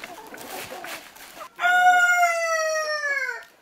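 A Yeonsan Ogye rooster, the black natural-monument chicken breed, crows loudly and close by with a long, strained, falling call after a stretch of low clucking and farmyard noise.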